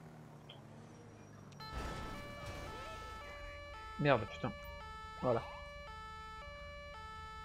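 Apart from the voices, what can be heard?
police siren in video game GTA V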